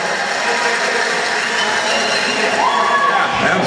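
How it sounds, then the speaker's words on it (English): An audience at a youth trivia game show breaks into loud, dense applause and cheering, a steady roar of clapping and voices that fills the whole clip with a brief rising whistle-like tone near the end. "Give her a big round of applause."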